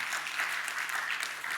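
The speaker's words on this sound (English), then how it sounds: "give him some applause" A short burst of applause from a small conference audience at a tech talk, steady and moderately loud.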